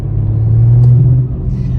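A BMW M235i revs hard under acceleration, its engine roaring through the air intake as a loud, steady low rumble that climbs and holds, close and with no talk over it.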